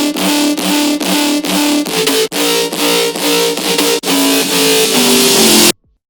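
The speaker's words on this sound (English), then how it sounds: "This is the bass lead that I've been using from a main song I've been working on lately." A Serum synth bass lead preset plays a loud, dense, pulsing phrase with sharp rhythmic retriggers and bright harmonic buzz, then cuts off abruptly to silence.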